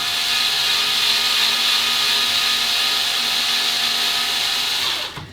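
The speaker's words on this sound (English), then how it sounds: "The deluxe version has the ability to chamfer and deburr your cases while it trims." Steady whirring of a motorized deluxe cartridge case trimmer as it trims, chamfers and deburrs a brass case, running continuously and close up, then cutting off at the end; no talking.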